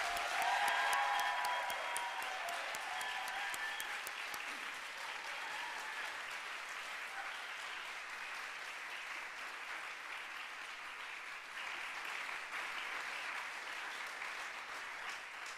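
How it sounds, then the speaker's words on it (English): Students at a university music school convocation give their faculty a sustained round of applause, a dense wash of many hands clapping that fills the whole stretch at a steady, moderate level and fades slightly toward the end. "So if the students wouldn't mind giving the faculty a round of applause, I would appreciate it."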